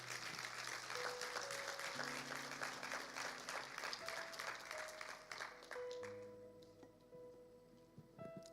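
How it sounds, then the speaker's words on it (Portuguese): Church congregation applauding during a Portuguese-language sermon, steady broadband clapping that fills most of the clip, with sustained tones from instruments or organ underneath and the clapping thinning toward the end. "Dê um forte aplauso ao Senhor."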